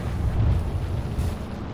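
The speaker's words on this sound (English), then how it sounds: "Thermite grenade out." A thermite grenade in Apex Legends bursts with a low, rumbling roar that lingers briefly, heavy in the bass and close by.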